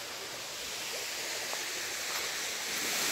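Steady rushing water at the Cachoeira São José waterfall, a broad, even wash of flowing water heard close and continuous with no talk.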